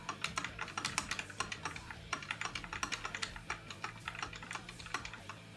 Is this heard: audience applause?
no